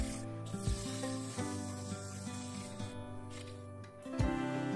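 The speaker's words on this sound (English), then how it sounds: "then I sanded the whole of the outside from 80 to 400 grit" Sandpaper from 80 up to 400 grit rubs over the outside of a turned sequoia wood bowl, a close, steady scratchy hiss with several brief shifts in pitch as the stroke changes.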